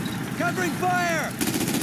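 Covering gunfire in a wartime combat scene, a short burst of shots behind shouting voices and ongoing battle noise.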